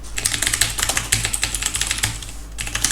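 C++ database code being typed on a computer keyboard: rapid, irregular clicking keystrokes, close and crisp, with no voices over them.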